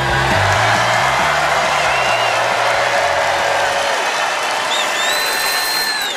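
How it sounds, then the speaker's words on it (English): Large crowd at a presidential rally in Charlotte, a dense, steady roar of cheering and applause that holds at full strength throughout, with scattered whoops rising above the wash. "Look at this crowd. It's crazy."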